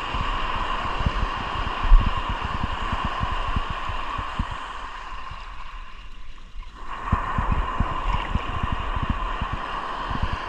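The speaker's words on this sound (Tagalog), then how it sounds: "Grabe na yung alon, nalaki na." Rough sea waves rock a small fishing boat, giving a continuous watery slosh with dense knocking and splashing. The sound dips briefly partway through, then returns at the same close, moderate level.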